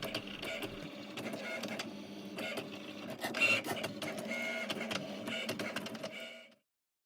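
A Cricut cutting machine cuts a vinyl design with a steady motorized whir and quick, repeated carriage movements close by. It runs for several seconds and then stops abruptly.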